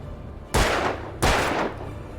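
Two heavy gunshots fired in the Alan Wake video game, loud and close, each with a short decaying tail, spaced about two-thirds of a second apart.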